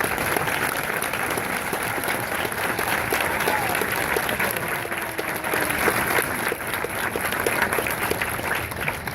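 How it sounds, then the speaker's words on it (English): Audience applause fills a Marine graduation ceremony, a dense, steady roar of many hands clapping for the full stretch, loud and continuous with crowd murmur mixed in. "ladies and gentlemen, please join me in a big round of applause for their many"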